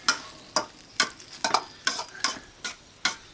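Turkey stir-fry with a thickening slurry cooks in a wok on a rocket stove, a utensil scraping and stirring in regular, evenly spaced strokes over a faint sizzle.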